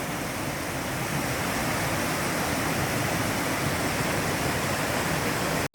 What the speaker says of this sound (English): You can see a bit more of this waterfall.